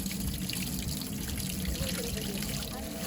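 Water from a spring in Gilan, northern Iran, runs and splashes in a steady, close, continuous rush with no clear voices.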